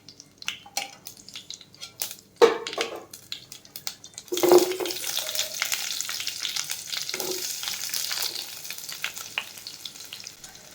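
Onions sizzle as they hit hot oil with dried red chillies for a pumpkin pulusu, a loud crackling fry that rises sharply and stays steady, with a few utensil clinks and stirring noises throughout.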